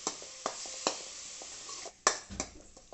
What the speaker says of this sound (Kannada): ಈರುಳ್ಳಿ ಎಲ್ಲ ಗೋಲ್ಡನ್ ಬ್ರೌನ್ ಬರೋ ತನಕ ನಾವು ಸ್ವಲ್ಪ ಫ್ರೈ ಮಾಡ್ಕೊಬಿಡೋಣ